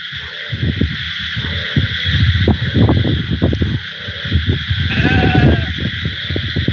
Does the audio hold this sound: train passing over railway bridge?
no